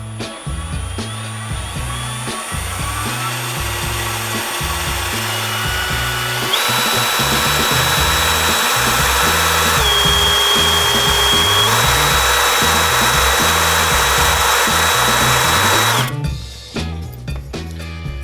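A cordless hammer drill runs continuously for about sixteen seconds with a rapid pulsing hammer rattle and whining motor pitch shifts, then stops abruptly.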